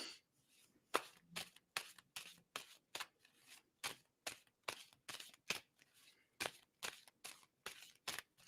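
Tarot cards are shuffled by hand in quick repeated bursts of riffling and sliding, about two per second, close and fairly quiet.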